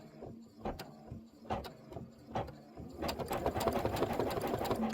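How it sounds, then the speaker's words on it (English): An embroidery sewing machine stitches quilted pillow blocks, spaced mechanical thumps at first and then a steadier, faster run of stitching, close but fairly quiet. "Got about 2 more minutes of stitching"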